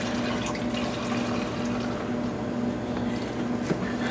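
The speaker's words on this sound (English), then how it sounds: "we're going to take our biodiesel, we're going to add it back into our jug" Biodiesel poured back into a jug, a continuous steady splashing, gurgling stream of liquid heard up close with a faint underlying hum.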